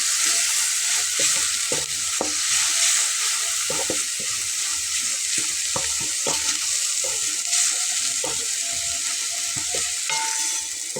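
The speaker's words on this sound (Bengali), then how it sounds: "এটা কষিয়ে নিতে নিতে আমি এখানে দেখুন 3-4টা কাঁচামরিচ আমি দিয়ে নিচ্ছি" Mashed potato and red lentil mix stir-fried with three or four green chillies, a steady loud sizzle broken by frequent scraping clicks of a spatula against the pan, no voices.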